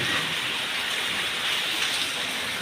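Heavy rain pours down in a loud, unbroken hiss of dense drops. It is close and steady throughout, with no voices.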